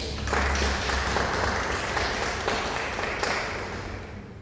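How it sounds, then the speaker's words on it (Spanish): A church congregation at a charity-themed service applauds to welcome a speaker, with broad, sustained clapping from many hands that holds steady before easing slightly at the end. "lo recibimos con un aplauso de favor"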